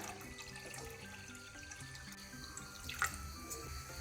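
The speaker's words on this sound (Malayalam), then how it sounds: "ചീനച്ചട്ടി വെച്ച് കൊടുത്തതിന് ശേഷം അതിലേക്ക് നമുക്ക് വെള്ളം ഒഴിച്ച് കൊടുക്കാം" Water poured into a kadai, a soft steady splashing stream running throughout at low volume, with a slight clunk near the end and no voices.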